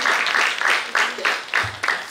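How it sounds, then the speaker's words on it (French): Audience applause at a luxury-sector conference on artisan crafts, a brief burst of clapping in several swelling waves, fairly close and full, with a faint voice underneath. "Ça mérite des applaudissements"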